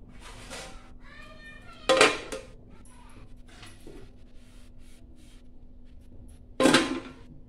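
Two sharp clinks as a plate is set over a pan of fish being cooked without water on a low gas flame in a home kitchen, each a brief bright knock, with a cat meowing between them.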